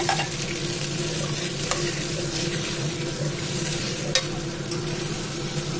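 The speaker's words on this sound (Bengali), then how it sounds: "আলুটা কিছু সময় কষিয়ে নেব" Potatoes being sautéed in a pan for a tomato-and-potato curry, with a steady soft sizzle and occasional light clicks of stirring throughout, no voices.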